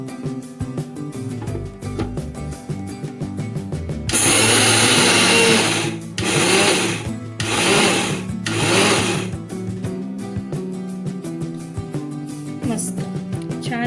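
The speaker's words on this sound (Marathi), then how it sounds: "आता हे छान मिक्सरला वाटून घेऊयात" A kitchen mixer grinder whirs in several loud bursts while grinding flaxseed chutney, starting and stopping a few times, over a background of music.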